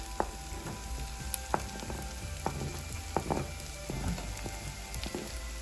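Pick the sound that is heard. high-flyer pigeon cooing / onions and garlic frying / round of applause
onions and garlic frying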